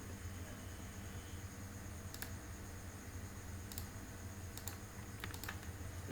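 A computer keyboard used to type a terminal command. A few sparse, crisp keystrokes sound singly and in small pairs over faint steady hiss, quiet and close, with no talking.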